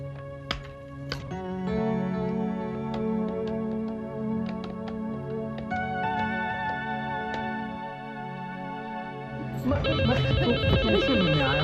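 A telephone rings after a call is placed, set against a steady tonal musical backdrop that carries throughout. The sound grows brighter and busier near the end, and no one speaks.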